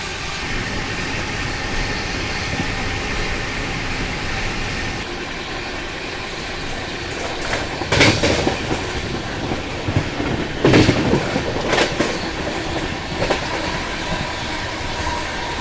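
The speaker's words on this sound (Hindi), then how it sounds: "अभी ट्रेन क्रॉस कर रही है पोन्नाई रिवर को" Shatabdi Express train crossing the Ponnai river in South India, heard from inside a coach: a steady rolling rumble with rhythmic wheel clacks and a few louder bursts, continuous throughout with no talk.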